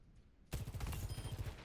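A sudden, very rapid burst of automatic gunfire in Overwatch 2 starts after a quiet moment and continues steadily, loud and close with fast, even shot rhythm and no speech.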